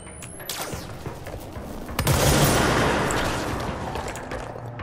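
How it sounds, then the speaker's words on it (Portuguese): Homing projectiles fired by a creature in the action game Control streak in and burst into a loud, sustained rumbling barrage of gunfire and explosions that swells midway and slowly fades, with no voices. "Esse tiro do bichinho é teleguiado."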